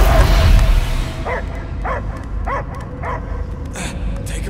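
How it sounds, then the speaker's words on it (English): A dog in the Guardians of the Galaxy video game gives a run of four or five evenly spaced barks or yips, clear over a low rumbling game background after a loud opening burst. "I hear only barking"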